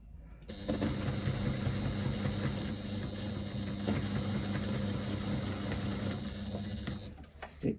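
A sewing machine stitching fabric piping with cord, a steady fast mechanical whirr running continuously from start to near the end, then stopping, close and unaccompanied by talk.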